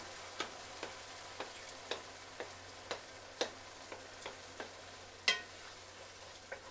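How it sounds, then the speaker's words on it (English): A slotted spoon presses and crushes tomatoes in a sizzling pan for rosa sauce, giving about a dozen distinct knocks and squelches in a loose rhythm over a low frying hiss, one hit noticeably louder. "And with the tomatoes, we're going to kind of smash them with a slotted spoon, get those crushed up a little bit"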